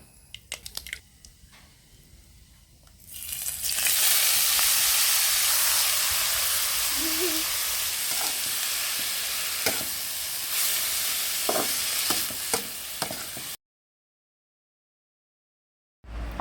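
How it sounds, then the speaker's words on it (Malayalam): Mustard seeds spluttering in hot coconut oil for a banana-flower thoran: a loud continuous sizzle and hiss rises after a quieter start, with sharp pops scattered through, then cuts to silence near the end. "കടുക് ഇട്ട് കൊടുത്തിട്ടുണ്ട്."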